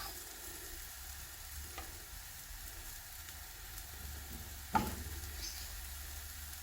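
Boiled potatoes added to frying masala for a poori masala curry, giving a steady close sizzle with stirring and a sharp clack of a utensil against the pan partway through, with no voices.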